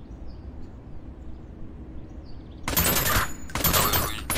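Rapid automatic gunfire from a zombie shooter video game, fired through a fence, comes in two loud sustained bursts after a quiet stretch of low background hum.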